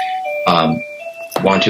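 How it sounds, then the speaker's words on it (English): An indoor doorbell chime rings with clear sustained tones while a person talks over it. "sorry, that's my doorbell ringing."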